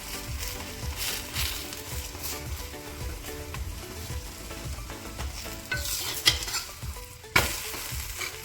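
Butter sizzles steadily as a cabbage paratha fries on a pan, with scraping and flipping noises and a couple of sharp clinks near the end.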